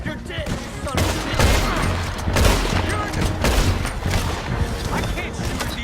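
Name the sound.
gunfire, Red Dead Redemption 2 video game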